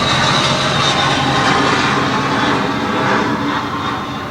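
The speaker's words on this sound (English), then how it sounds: "And of course, here comes the plane." A jet airplane passes low overhead along a flight path, a loud, continuous broadband roar that swells and then begins to ease off slightly near the end.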